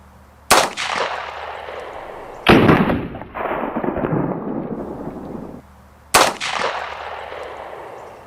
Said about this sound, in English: Let's shoot it one more time.